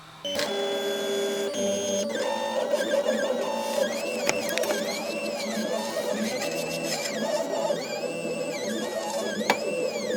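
A 3D printer runs continuously while its nozzle is purged with cleaning PLA, a steady mechanical whir broken by rising and falling stepper-motor whines and small clicks, close and alone throughout.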